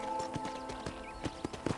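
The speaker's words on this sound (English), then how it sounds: "Okay, let's see if you can still ride a horse." Horse hooves clip-clopping at a quick rhythmic pace in the Red Dead Redemption video game, about eight distinct close thuds over a faint steady hum.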